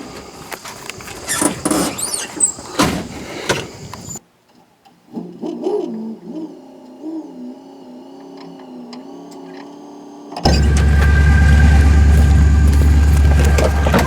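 A 1976 truck with a tunnel-ram engine rolls forward onto a street dyno: loud, rough engine noise first, then a quieter low idle with shifting tones, and finally a steady, heavy roar.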